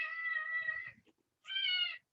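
A pet cat lets out two drawn-out, plaintive meows close by, the first long and the second shorter after a brief pause, with nothing else heard in between.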